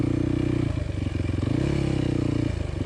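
A motorcycle crossing a rocky riverbed, the engine held at steady high revs with the clutch slipping, a loud continuous drone that dips and surges with clattering and scraping underneath.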